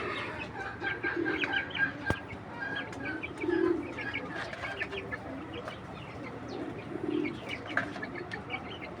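An old-breed silver male pigeon coos and burbles in soft repeated phrases at moderate distance, with faint background bird and fowl sounds and low murmured human voice.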